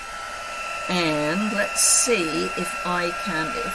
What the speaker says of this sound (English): and my heat gun. Sorry about the noise.